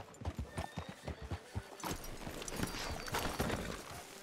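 Horse hooves in the video game Red Dead Redemption clop in an uneven rhythm on hard ground, first distinct beats then a busier run of steps, fairly close.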